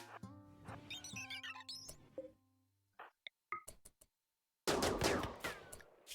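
Gunfire in a colony-building video game: a quick series of separate shots rings out after a stretch of squeaky game sounds and a pause, followed by a louder, sustained burst of noise.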